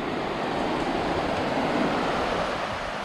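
Sea waves at Lamoro Beach in El Nido, a continuous broad wash of surf mixed with wind rumble on the microphone, steady and fairly close.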